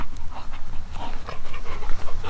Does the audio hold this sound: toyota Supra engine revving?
no